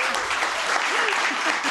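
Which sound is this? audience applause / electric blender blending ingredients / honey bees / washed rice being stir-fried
audience applause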